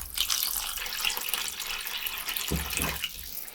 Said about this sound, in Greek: Θα προσθέσουμε τώρα νερό, ώσπου να σκεπαστούν οι πιπεριές.